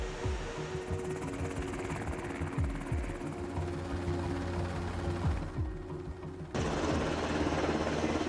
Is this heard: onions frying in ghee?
no